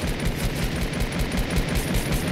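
Rapid automatic gunfire sprays an enemy in Fortnite Battle Royale, a dense, steady stream of shots lasting the whole moment at a moderate level with no talk.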